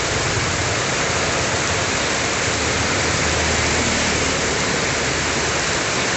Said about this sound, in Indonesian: Hujannya sangat lebat sekali guys.